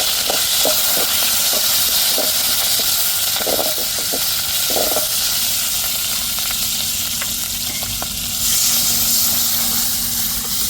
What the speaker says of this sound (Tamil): தாளிப்புக்கு கருவேப்பிலை சேர்த்துக்கிடுவோம்